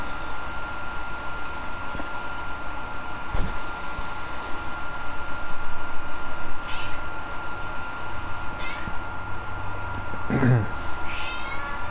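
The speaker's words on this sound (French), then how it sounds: "ça y est mon chat il se réveille" A house cat meows briefly near the end, close by, over steady background noise and talk.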